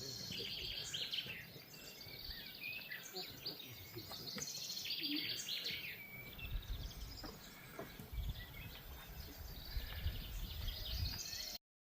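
Continuous birdsong fills an outdoor scene at Olympia, Greece, near water, many small chirps and trills layered together, with faint rustling and low ambient sounds underneath.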